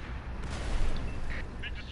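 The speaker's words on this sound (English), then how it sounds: "It destroyed one of our tanks" A tank blows up in a video game battle, a loud broad rumbling blast that swells and fades over about two seconds, with faint game sounds around it.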